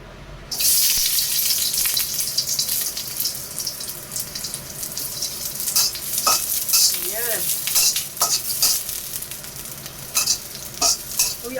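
Patola (sponge gourd) frying and being stirred in a new wok, a steady close sizzle with scraping stir strokes throughout, and a splash of water near the end.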